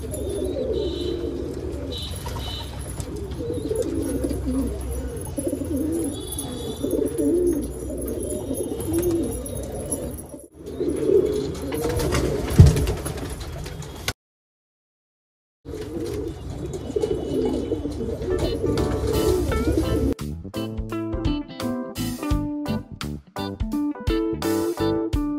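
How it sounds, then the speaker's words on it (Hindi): A pigeon that has just landed coos repeatedly in soft, rhythmic low calls, close by, with other birds chirping faintly around it and a brief silent gap midway. "और ये दोस्तों उतर चुका है कबूतर नीचे।"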